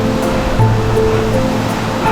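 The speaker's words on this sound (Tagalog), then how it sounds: "Yan ang bagsak ng tubig." Palale Falls in Albay, a steady, dense roar of falling water, loud and unbroken with no voices.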